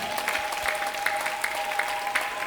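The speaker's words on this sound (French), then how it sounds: "Applaudissons très bien pour la parole de Dieu." A church congregation claps steadily through a midweek worship service, dense and continuous applause filling the room with a faint sustained tone underneath and no talking.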